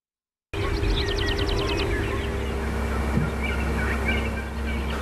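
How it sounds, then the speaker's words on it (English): Wild turkeys gobble and cluck outdoors at the Little Missouri National Grassland in North Dakota, a rapid rattling gobble near the start followed by softer scattered calls over steady wind and ambient noise. "in the company of wild turkeys, safe and sound at the Little Missouri National Grassland in North Dakota"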